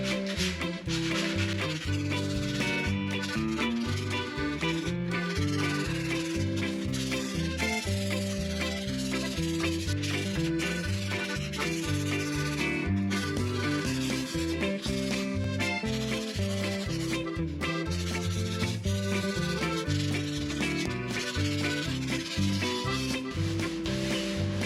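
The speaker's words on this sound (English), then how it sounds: "in order to make it work, I have to sand it down" Sticker backing material on a DIY cat tree is sanded down by hand, with a steady rubbing scrape running continuously beneath loud background music.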